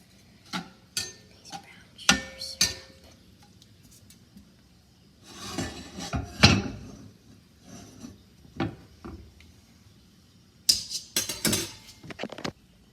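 A spoon stirs syrup for bubble tea in a pot, giving intermittent scrapes and light clinks in short bursts separated by quiet gaps, close and fairly soft, with no talking.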